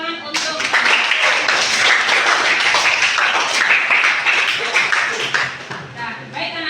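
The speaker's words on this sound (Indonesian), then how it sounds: "tepuk tangan untuk" Classroom applause from a group of students, a busy patter of clapping hands that stays close and lively for several seconds before thinning toward the end, with voices mixed in.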